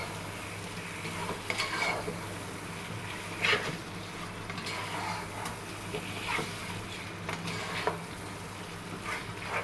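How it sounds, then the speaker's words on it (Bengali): Spiced beef for a Bengali beef bhuna being stirred in a frying pan: a steady sizzle broken by repeated scraping strokes of a spoon against the pan, close and moderately loud, no voices. "ভালোভাবে নেড়ে ছেড়ে নেবেন যাতে মশলাটা সম্পূর্ণ মাংসের সাথে লেগে যায়"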